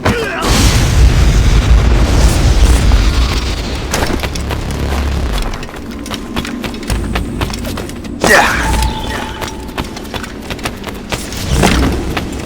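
Cannon fire and explosions in Assassin's Creed Rogue: a heavy, sustained rumbling barrage at the start, then scattered booms and bursts over background battle noise, with a sharp loud blast around the middle and shouted voices.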